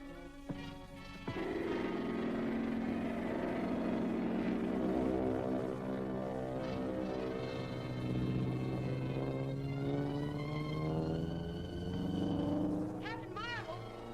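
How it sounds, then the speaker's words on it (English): Propeller airplane approaching overhead in a 1941 adventure serial, a rumbling drone that swells and holds under excited voices speaking and shouting. "I can hear the plane coming!"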